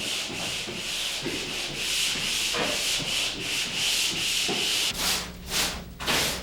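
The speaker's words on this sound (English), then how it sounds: "The pole sander works great on ceilings." A pole sander scrapes back and forth across drywall compound on a ceiling, in steady rhythmic strokes of loud abrasive rasping that continue throughout, close and with no talking.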